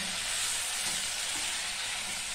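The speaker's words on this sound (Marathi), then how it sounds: "हे हलवून घ्या." Stuffed brinjal curry sizzles and hisses steadily in a pan as it is stirred, a continuous close, loud frying sound with no talk.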